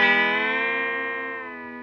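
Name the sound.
Fender Stratocaster whammy bar bending electric guitar pitch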